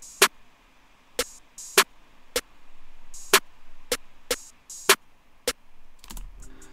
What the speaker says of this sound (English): a normal typical snare